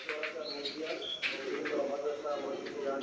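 Pet pigeons coo softly at a pigeon house in a sustained, low, murmuring background, with some faint chirps mixed in and no clear speech over it.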